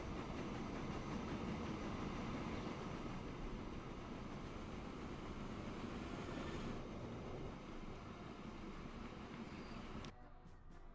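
A train runs in the video game Transport Fever 2 as a faint, steady rumbling wash of rolling noise, continuous and fairly even until it drops away abruptly near the end.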